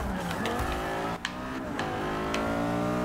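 Audi R8 racing in the Forza video game, a high revving engine whining loudly and shifting pitch as it accelerates, with brief tire squeals and crashes in between.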